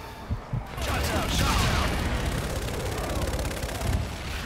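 A called-in fire strike in Call of Duty Infinite Warfare: a few sharp early cracks, then a dense, sustained roar of gunfire and explosions rumbling loudly throughout.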